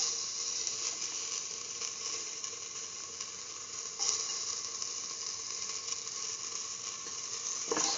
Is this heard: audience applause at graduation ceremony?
no